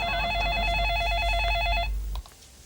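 An electronic telephone ringtone warbles in a steady repeating pattern for about two seconds, then cuts off abruptly, leaving a quiet room.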